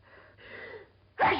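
A single sharp sneeze bursts out near the end, close and loud, after a stretch of quiet low room tone.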